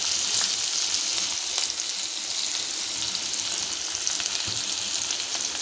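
A medium-sized onion fries in a pan with a continuous, even sizzle and crackle at moderate level, no voices over it.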